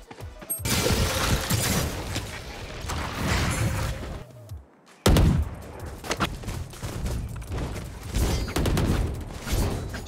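Rapid gunfire in the Valorant video game during counter strafing, dense loud bursts of shots filling the stretch, broken by a short lull near the middle before firing resumes.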